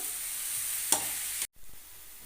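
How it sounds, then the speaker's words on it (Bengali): Papaya pieces sautéing with spices in a pan give a soft, steady sizzle with one brief stir, then the sound cuts off abruptly and resumes quieter. "সমস্ত মশলা দিয়ে ভালো করে কষিয়ে নিচ্ছি"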